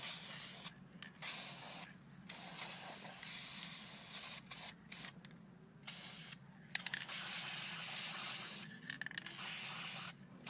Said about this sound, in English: 12 inches away, lightly spray it back and forth.